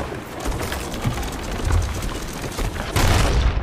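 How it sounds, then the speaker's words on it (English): Booming cannon fire and explosions in the pirate video game Sea of Thieves, a dense run of heavy blasts with a louder burst near the end, no talk over it. "I got killed by a cannon."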